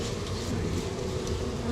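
Honeybees buzzing in an opened beehive of around 50,000 bees, a steady close droning hum of many wings with a few sharper individual buzzes rising out of it.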